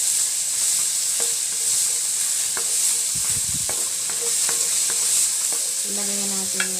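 Onion and garlic sauté in cooking oil in a pan, a steady close sizzle broken by scraping stirs and clinks of a utensil on the pan, with no voices.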